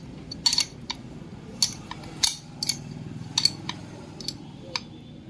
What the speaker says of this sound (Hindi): अब 10 नंबर की चाबी से मुझे खींच देना होता है सही तरीके से